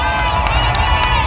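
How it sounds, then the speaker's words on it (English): Festival audience at a panel event cheering and applauding loudly in a dense, continuous crowd roar that fills the moment without a break. "Please give her a big round of applause."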